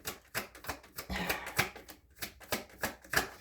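Playing cards are riffled and shuffled in quick, crisp bursts with a brisk, rhythmic patter, close and fairly quiet.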